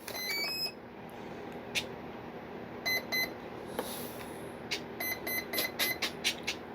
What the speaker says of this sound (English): As soon as I heard those first 2 beeps, I dropped it all the way down.